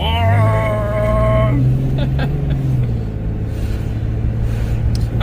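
A 1995 Jeep Grand Cherokee engine pulls at half throttle, a steady low rumble that rises slightly, heard from inside with a voice talking over it at first.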